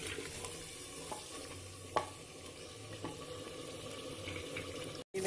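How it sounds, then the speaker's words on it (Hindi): Fried chicken is roasted in a handi pot over medium heat, giving a soft, steady sizzle with occasional scraping stirs. It stays quiet and close, with a brief cutout near the end. "दरमियानी आंच में मैं इसको अब भून लूंगी थोड़ी देर।"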